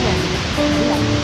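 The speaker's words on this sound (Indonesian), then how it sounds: "Anginnya kencang." Strong wind blows across an open rice field during outdoor cooking, a steady broad roar of gusting air that fills the whole moment, loud and close.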